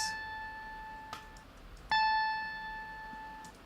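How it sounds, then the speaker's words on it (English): Two plucked guitar notes, each starting with a sharp attack and then ringing out steadily with a clear, bright tone, the second louder than the first. "So this is a guitar note. It sounds like this."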